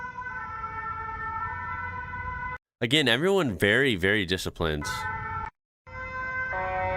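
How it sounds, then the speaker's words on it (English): An emergency vehicle siren in Belgium wails in a fast, rising-and-falling pattern for a couple of seconds, loud and close, while someone talks over other stretches of the clip. "That one's like a good siren."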